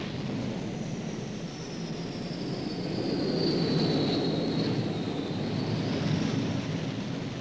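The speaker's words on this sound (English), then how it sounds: "Again, Hornet is flung into the air, and with light loads, there is no need to select full afterburner." F/A-18 Hornet jet launched by catapult from an aircraft carrier deck with a light load and no full afterburner: a steady broad roar with a high whine that rises in the middle and holds, fairly loud, with no talk.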